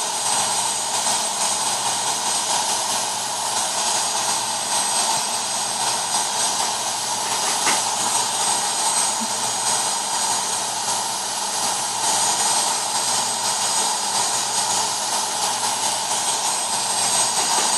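A Singapore Airlines Airbus A380-800 in the Infinite Flight simulator passes overhead with a loud, steady roar of jet engines and broad hiss that holds without change, and no one speaks.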